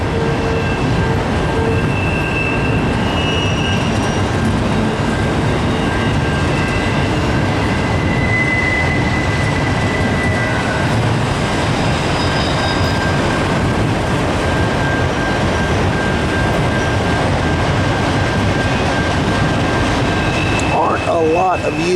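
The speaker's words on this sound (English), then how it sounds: "a lot of the rack unit trains are gone. And this is one of them." CSX manifest freight train with ES44 and AC44 locomotives leading a long string of empty auto rack cars, passing southbound by Dalton; loud, steady rolling rumble with wheel clatter and high squeals throughout.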